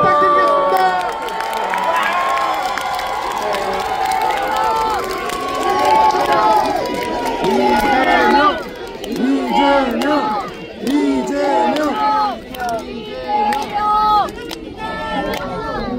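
A crowd cheers and shouts outdoors at a Korean political campaign rally in front of Starfield Hanam, a loud, sustained roar of many voices with a person speaking over it.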